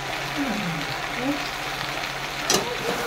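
Tomato sautéed in a pan for a prawn and okra curry gives a steady, moderate sizzle with a brief sharp scrape near the middle, a faint voice murmuring underneath.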